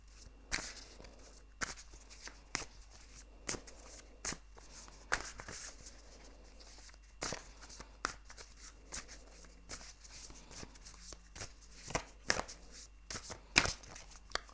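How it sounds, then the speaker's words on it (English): Tarot cards are shuffled by hand close up in a long run of crisp riffling and slapping bursts that come every second or so, with soft rustles between them and no talking. "I'm going to shuffle a little bit more"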